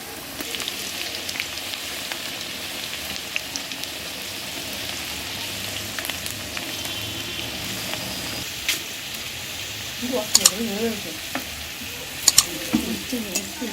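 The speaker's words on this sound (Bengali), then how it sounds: "আলুগুলো লাল লাল করে ভাজা হয়ে গেছে" Potato pieces fry in hot oil in a wok with a steady, close sizzle throughout, and a few sharper scraping and clinking stirs come near the end.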